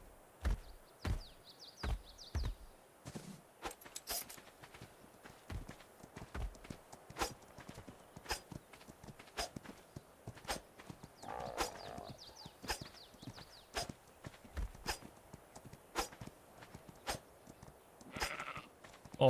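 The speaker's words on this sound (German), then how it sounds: "Schafe." In the video game ARK, sheep bleat a few times over a dense, rhythmic clip-clop of hooves that runs throughout, the bleats soft and intermittent against the steady footsteps.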